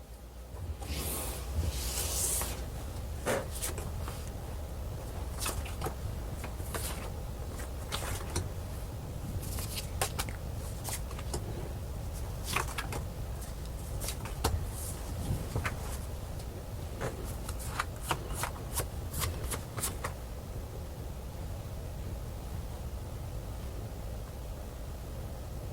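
Tarot cards are shuffled and drawn at close range, a soft papery rubbing bed broken by many sharp flicks and slaps in irregular bursts, with no speech.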